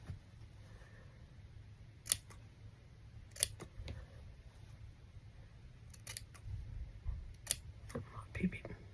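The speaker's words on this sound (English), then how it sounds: "Just snipping up to that line." Sharp scissors snip fabric in small cuts up to a marked line for a laptop case, giving a handful of crisp, isolated clicks spread out over a quiet background with faint soft handling noise.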